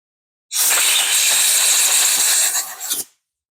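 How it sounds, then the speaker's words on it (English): A compressed air nozzle blows out parts during a carburetor installation on a Trail Buddy minibike, making a loud, steady hiss for about two and a half seconds that ends in a few brief sputters. "We'll blow it out with an air nozzle."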